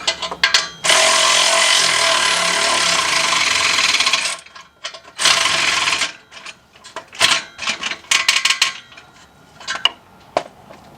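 Bolts are tightened during a timing belt and oil pump replacement on a Ford EcoSport, Fiesta or Focus engine, with a loud, sustained buzz of a power tool running for several seconds, followed by clinks and short metallic bursts.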